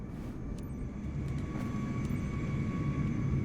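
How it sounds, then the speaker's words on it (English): Ambient aircraft around a busy airport at JFK in Microsoft Flight Simulator 2024, heard from inside a Vision Jet: a steady, rising jet engine roar with faint high whines and occasional clicks. "They even added aircraft sounds for ambient flights."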